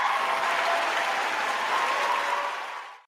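A brief, dense round of applause, steady and fairly close for about three seconds before cutting off abruptly, with no voices over it.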